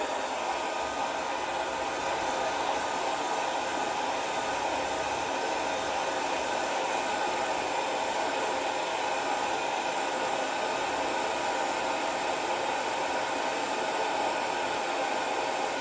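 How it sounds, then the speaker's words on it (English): A blow dryer runs continuously at close range, drying a glitter-coated tumbler, a steady, even rushing hum with no pauses and no talk. "Use the blow dryer to dry it again."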